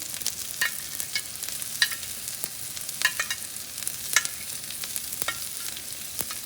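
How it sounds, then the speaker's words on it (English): Carrots, capsicum and beans frying with ginger and curry leaves in a pan, a bright continuous sizzle with scattered crisp ticks and scrapes of stirring, close by and without speech. "let's fry all this. So next goes in our carrots, capsicum, beans"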